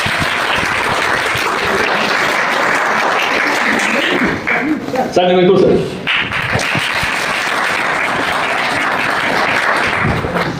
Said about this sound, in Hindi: एक बढ़िया सा ताली, जोरदार ताली होनी चाहिए